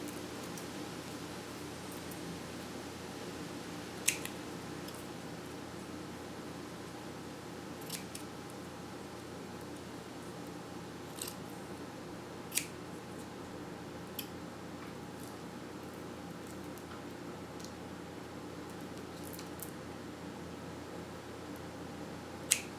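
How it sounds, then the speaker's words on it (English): Scissors snip washi tape on a wooden clothespin in sparse, quiet, crisp clicks scattered over a soft steady room hum, with no voices. "I'm going to cut as close as I can and try to remove the extra washi tape that is peeking out"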